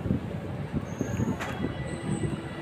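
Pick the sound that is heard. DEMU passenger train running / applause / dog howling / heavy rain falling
DEMU passenger train running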